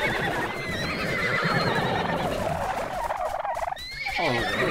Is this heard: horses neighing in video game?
yes